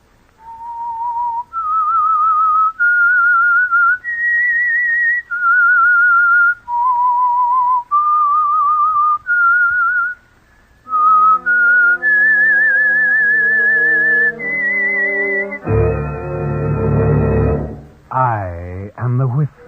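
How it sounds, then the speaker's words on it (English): The whistled signal tune of the 1947 radio drama The Whistler: a single clear whistler carries a slow, eerie melody of sustained notes, and orchestral music then swells in and rises to a loud, dramatic flourish. "That whistle is your signal for the Whistler."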